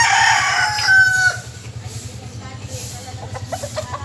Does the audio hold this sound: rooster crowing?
yes